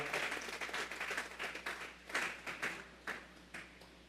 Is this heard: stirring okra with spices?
no